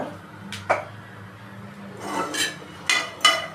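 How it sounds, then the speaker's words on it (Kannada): Poppy seeds tipped into a pan with coconut while frying masala for a Karnataka-style stuffed brinjal sambar, heard as a few light clinks and brief sprinkling rattles against the metal over a low background hum, with no talking. "ಒಂದು 3 ಸ್ಪೂನ್ ಗಸಗಸೆ ಹಾಕೋಣ"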